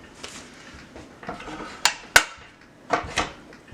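Knife cutting through the side of an onion on a cutting board while making French onion soup, giving a few sharp close knocks and slicing scrapes spread over a few seconds.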